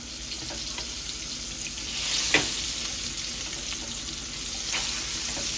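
Pork chops browning in a frying pan give a steady broadband sizzle, close and moderately loud, with a brief sharper spatter burst partway through as they are turned over.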